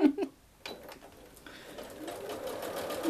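A home sewing machine runs slowly, sewing a straight seam. Its soft mechanical whir and needle clatter are faint and close. Brief bird-like chirps sound at the start and end.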